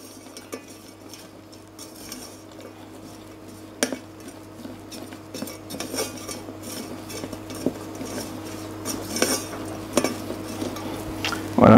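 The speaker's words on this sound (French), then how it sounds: "Il faut toujours que les noix de pécan soient en mouvement." Pecans stirred continuously in a pan with a utensil, giving steady scraping and rattling with occasional clinks, faint sizzle underneath, growing busier and louder toward the end and free of speech.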